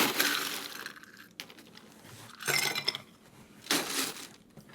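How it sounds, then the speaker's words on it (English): Ice cubes tumble and clink into a mixing glass for an Irish whiskey and Italian vermouth cocktail, three close, loud bursts of rattling and clattering with short pauses between. "And we'll ice the mixing glass."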